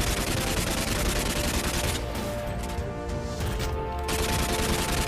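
Rapid automatic gunfire in the Free Fire video game, a dense continuous burst of shots with crashing impacts that fills the whole stretch, loud and close.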